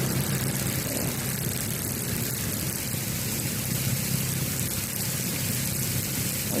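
A vehicle engine runs steadily in a low continuous drone while driving through deep flood water, with a constant broadband wash and rumble throughout and no speech.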